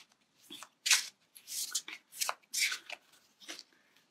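A deck of reading cards being shuffled by hand, a series of quick papery riffles and slaps in irregular bursts, close and fairly quiet, with no voices.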